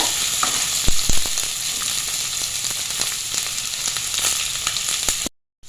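Onion and green chilli frying in a pan with crushed ginger and garlic, a loud steady sizzle with a few sharp clicks of the spoon, then cutting off abruptly at the end.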